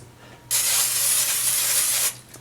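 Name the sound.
cooking spray on a baking pan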